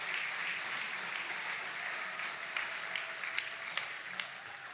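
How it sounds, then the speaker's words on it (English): A church congregation applauds in a sustained, even wash of clapping that fills the room and fades slightly toward the end, with a few sharper individual claps standing out. "would you give me one more big round of applause for this team?"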